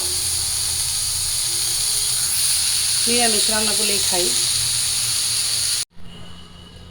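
Oil with bay leaf and cumin sizzles in a wok while soybean curry is started, a steady bright hiss running throughout, with someone speaking briefly over it before the sound cuts off abruptly.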